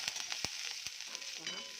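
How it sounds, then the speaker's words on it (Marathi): Green chilies roast in a little oil in a pan, giving a quiet, crackly sizzle with scattered sharp pops and spits. "थोडंसं तेल टाकून मिरची पण छान असे डाग तर भाजून घेतल्या पाहू शकता"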